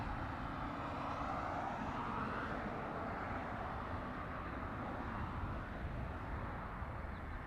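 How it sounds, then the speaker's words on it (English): An American Airlines airliner takes off from the south side at LAX, a steady broad jet roar heard from a distance and holding level throughout with no voices. "American Airlines taking off via the south side."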